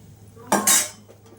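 A metal pot of lentil dal lifted off a stove, with a short metallic clank and scrape in two quick bursts over faint kitchen hum.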